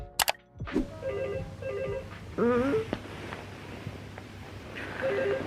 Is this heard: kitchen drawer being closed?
no